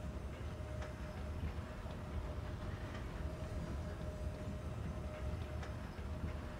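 A steady, loud mechanical rumble of a train ride in the video game Dead Space 3, with faint rhythmic clatter and no talk.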